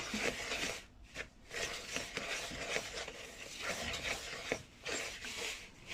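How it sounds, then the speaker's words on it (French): Wooden spoon stirring flour into cookie dough in a bowl, giving a continuous close scraping and rubbing texture with brief pauses. "À l'aide d'une cuillère en bois, on mélange le tout."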